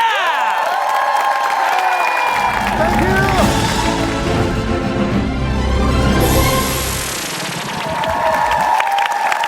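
A TV studio audience breaks into loud applause and cheering after a performance, clapping swelling in the middle with whoops, while music plays before and after.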